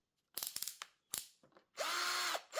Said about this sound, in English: You slide into place, press the trigger, and we've got a charge in it already